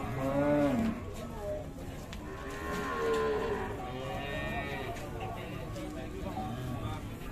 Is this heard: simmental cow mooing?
yes